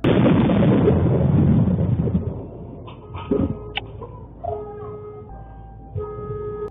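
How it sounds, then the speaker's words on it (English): A lightning bolt strikes a house roof in a storm, a loud burst of crackling thunder that fades, followed by scattered clanks and a rising car alarm tone. "Sparks flying as a bolt of lightning hits the roof, cutting out the power and setting off a nearby car alarm"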